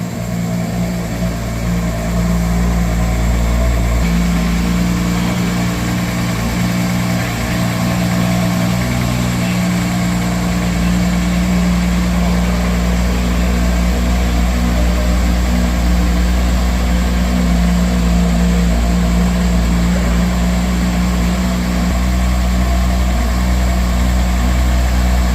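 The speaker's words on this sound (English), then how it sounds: "It's revving the engine." Ferrari Purosangue engine just after starting, a loud steady idle with deep low rumble and a slight shift in tone early on, close and continuous with no talking.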